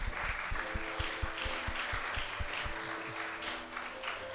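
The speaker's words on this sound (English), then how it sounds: "Let's have a round of applause for Gary." Live audience applause at a podcast recording in Manchester, steady clapping spread through a room, moderate level with a low hum beneath, continuing for several seconds.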